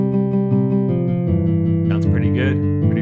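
A beat plays back in TunePad with bright, sustained synth chords that step through changes, and busier percussive hits come in toward the end, loud and close throughout.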